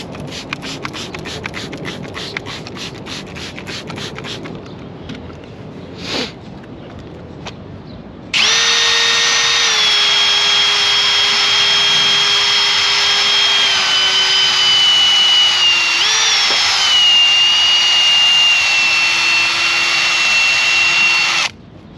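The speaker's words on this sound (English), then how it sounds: "now we're going in for the final real sanding of it, and with this one you have to wet sand" A drill-driven pad wet-sands a car headlight from an M3 headlight restoration kit. Light rhythmic tapping comes first, then a loud, steady high-pitched motor whine runs continuously for over ten seconds with a slight dip in pitch midway.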